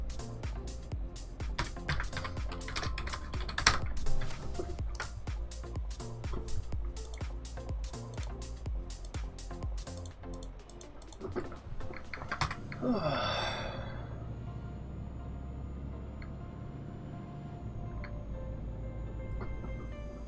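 Rapid, continuous clattering on a computer keyboard, dense and fast for about twelve seconds before stopping, then a squelchy swoosh and quieter background, close and moderately loud with no speech.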